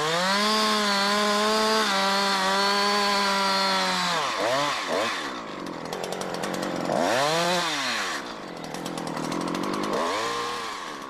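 A chainsaw runs at full throttle as it cuts into a tree trunk, loud and close, its engine pitch holding steady before dipping and rising repeatedly as the chain bites into the wood, with no talking.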